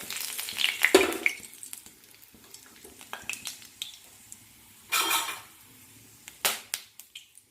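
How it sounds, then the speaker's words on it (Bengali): Whole spices (bay leaf, cinnamon, clove and cardamom) dropped into hot oil for a chicken pispas dish, giving short crackling sizzles and clinks of utensils in separate bursts, close and fairly quiet, without speech. "এবার আমি এই তেলের উপরে ফোড়নটা দিয়ে দিচ্ছি ফোড়নেতে আছে আমার তেজপাতা দারচিনি লবঙ্গ আর ছোটো এলাচ"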